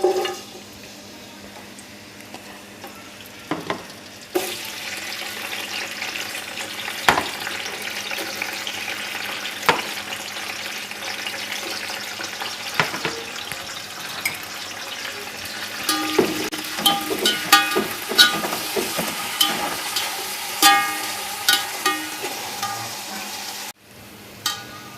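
Carrots, raisins and almonds frying in oil for Kabuli pulao make a long, even sizzle, broken by frequent stirring scrapes and clatter that grow busier toward the end before a brief drop-off.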